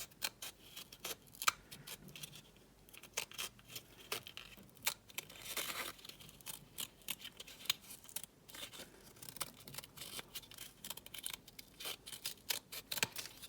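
Scissors snipping a spiral into a cardboard egg carton flower: rapid, irregular close-up clicks and crisp cuts with faint papery crinkling, quiet and continuous with no talking.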